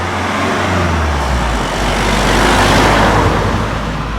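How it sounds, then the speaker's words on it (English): Cars drive along a road through a small hillside town with old houses and vineyards, a steady loud rumble of passing traffic with one vehicle swelling louder as it passes close by, no voices. "Cars now on the road."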